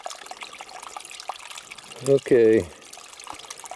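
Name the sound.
spring water trickling down over rock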